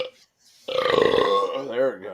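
A long, loud, frothy burp after drinking beer, close up and rumbling for over a second before trailing off in a wavering tone.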